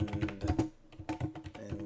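Rapid typing on a computer keyboard, a close, busy run of clicking keystrokes with one brief pause partway through, no talking over it.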